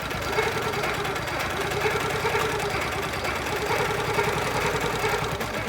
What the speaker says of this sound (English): And then I'm going to go ahead and stitch.